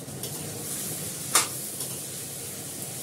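Curry spices sauté in hot oil in a pan, giving a steady close sizzle with soft stirring and one sharp clink of a utensil partway through.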